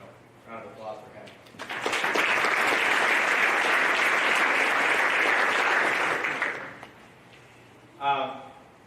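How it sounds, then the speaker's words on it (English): A banquet crowd at a sports hall of fame ceremony bursts into loud, sustained applause lasting about five seconds, then fades out, with a speaker talking just before and after. "round of applause for him."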